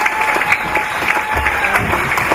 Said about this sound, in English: Round of applause there for Oscar Allen.